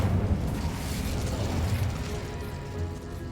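Incendio fire spell cast in the video game Hogwarts Legacy, a steady roaring burst of flame with rumbling low bursts and crackle, loud and continuous throughout.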